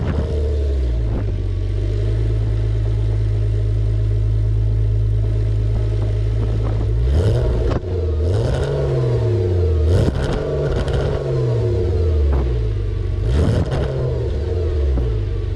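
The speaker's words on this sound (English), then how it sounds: "We have a dual exhaust right in the middle of the car, and check out how this car sounds." A 1997 Porsche Boxster 2.5 petrol with a five-speed manual and a central dual exhaust idles with a steady low hum, then revs in several sharp rising and falling blips, close and loud with no talking.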